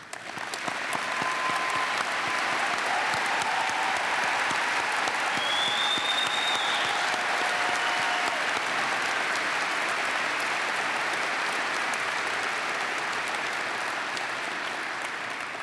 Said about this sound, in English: Please join me in applause as we acknowledge these individuals for their present and past service to our country